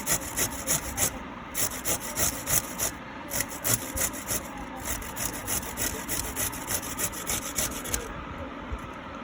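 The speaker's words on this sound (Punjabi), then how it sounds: "ਜਿਹੜੀ ਗਾਜਰਾਂ ਤੋਂ ਕੱਦੂ ਕਸ਼ ਕਰੀ ਜਾਂਦੇ ਆ" Carrots are grated by hand on a kitchen grater, making rhythmic rasping strokes about twice per second. The scraping is close and continuous, with no one speaking.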